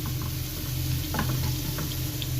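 Fish frying in well-heated oil, sizzling steadily and close with faint stirring clinks, no voices.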